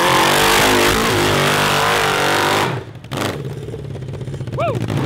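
A 750cc cross kart engine revs loud and raspy close by, then cuts off abruptly, leaving quieter ambience with a brief distant whine.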